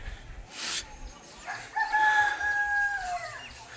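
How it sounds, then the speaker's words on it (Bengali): A rooster crows loudly and fairly close outdoors on a sunny winter day among houses, the long drawn-out call rising over a soft background murmur with a brief cluck before it. "আমাদের এখানে মুরগি রাত দুপুর দিন সব সময় ডাকে"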